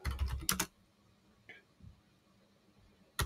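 Typing on a computer keyboard: quick clusters of close, crisp keystrokes at the start, then a long quiet pause, then another brief burst of keys at the end.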